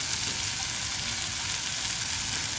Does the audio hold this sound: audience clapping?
no